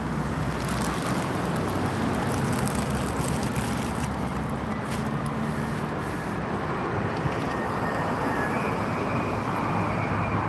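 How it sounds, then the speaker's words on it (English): A British Airways Boeing Dreamliner lands on runway 27R at London Heathrow, making a broad, steady jet roar that stays loud and unbroken for the full length. "And the next one to come in is the BA Dreamliner."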